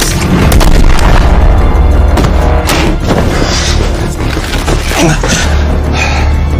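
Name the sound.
gunfire in an action film shootout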